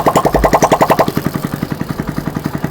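Honda CD70 motorcycle engine idling after a cylinder head repair, a steady close-up single-cylinder beat with a quick regular pulse and a light clattering tick from the head, running alone without voices.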